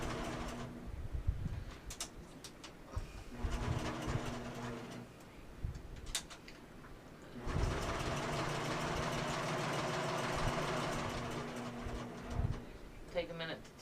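Sewing machine stitching the bottom edge of a fabric bingo bag, with short start-and-stop bursts followed by a steady, close run of around five seconds, alongside a low motor hum.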